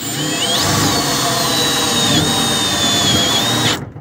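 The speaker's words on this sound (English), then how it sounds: "I'm putting more screws than I have to in this." A power drill drives screws into a metal floor patch cut into a car floor during a fuel pump replacement, one steady high whine held for about three seconds before it winds down and stops.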